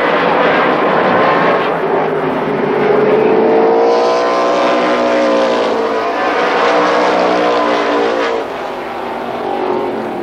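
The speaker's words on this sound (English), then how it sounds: "They pick up the throttle as they go into turn number 3." Stock cars roar loudly around a short oval at Columbus Motor Speedway, engines surging under throttle into the turn, a continuous layered drone with rising harmonic sweeps as the pack passes nearby.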